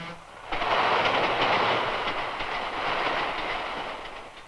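Diesel passenger train running fast on rails across open country, a loud continuous rumbling roar with steady clickety-clack of wheels that swells in just after the start and carries on alone.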